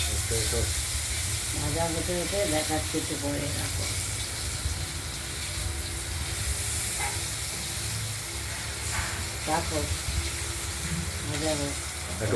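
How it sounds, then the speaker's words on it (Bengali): Potatoes fry in oil tempered with cumin, giving a loud, steady hissing sizzle throughout while voices talk over it. "আলুগুলো দিয়ে দেওয়া হবে দিয়ে দিলাম এবার ভাজা হবে"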